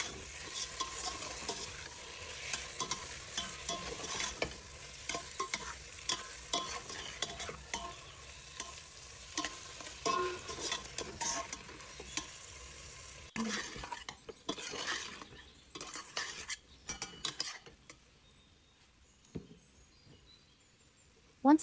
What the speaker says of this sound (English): Now it's time to add the marinated liver. We'll fry this for about 5 minutes,